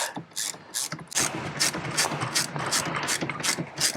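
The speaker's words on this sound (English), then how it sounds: "I find using a little ratchet, apart from the kit they've supplied, the tools are theirs, so just kind of screw all that back up" A small hand ratchet clicks rapidly in quick bursts while tightening screws on a swivel screen mount in a Tesla Model 3, crisp and close with short pauses between strokes.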